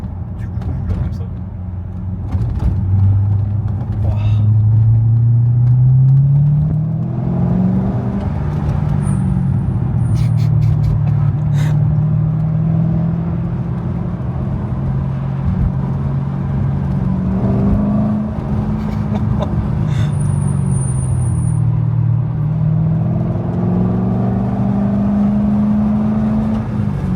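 A Chevrolet Corvette C6 engine drones loudly and steadily while driving, its deep tone rising and falling as the car accelerates and eases off across the whole stretch.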